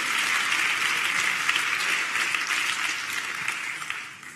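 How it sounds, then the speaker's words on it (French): Audience applause at a chamber of commerce award ceremony in Troyes, a dense steady wash of many hands clapping that holds strong throughout and tapers slightly at the end, with no voices over it. "et voilà, applaudissements pour Stéphane Coquet."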